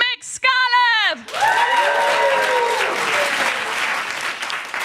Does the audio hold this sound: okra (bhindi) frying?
no